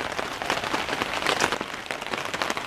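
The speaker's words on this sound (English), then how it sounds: "Yeah, the rain will keep it nice up here." Rain pattering steadily on a tarp over a campsite at Elora Gorge Conservation Area, a dense, close wash of drops with scattered louder taps, no voices.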